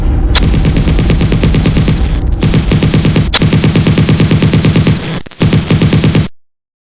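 Loud, sustained machine-gun fire as a sound effect in a horror comedy skit, rapid bursts of shots broken by brief pauses and a few heavier booms, with no talking.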